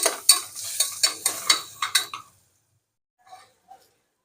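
A spoon scrapes and stirs varai (barnyard millet) upma with onion in a hot pan in about eight quick rhythmic strokes over a light sizzle, then quiet with two faint clinks.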